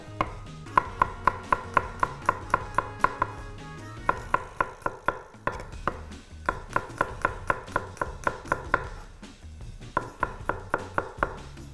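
Knife slicing an ingredient on a cutting board for a tripe cau cau, bound for a pot with onion and garlic, heard as rapid bursts of evenly spaced, close chopping taps, with brief pauses between runs.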